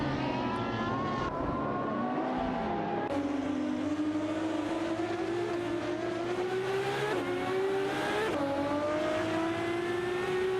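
Race cars in a video game roar around the track, several engines revving and shifting with rising pitch sweeps and gear changes, loud and continuous with no talk.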